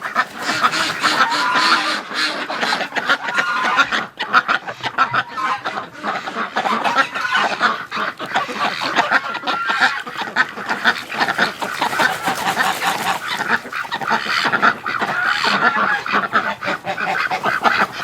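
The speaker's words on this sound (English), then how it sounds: "That's what you call a horny duck." A flock of wintering ducks on a frigid −14°C morning keeps up dense, overlapping quacking and honking, loud and close, with no pause throughout.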